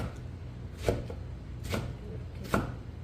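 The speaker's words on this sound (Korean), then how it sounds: "김치는 너무 크게 다져도 그렇고 너무 잘게 다지면 또 식감이 없어요" A knife chopping kimchi on a board for dumpling filling, three separate distinct thuds spaced about a second apart, close and alone.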